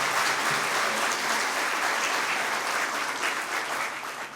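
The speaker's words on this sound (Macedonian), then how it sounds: "Во знак на благодарност да го поздравиме со еден громогласен аплауз." A school jubilee audience breaks into loud, sustained applause for actor and screenwriter Nikola Kuzelov, dense and continuous from many hands, close and full throughout.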